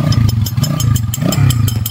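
A broken Rusi motorcycle engine runs close by with a rough, uneven low throb and rapid clattering knocks repeating through the clip, loud and steady.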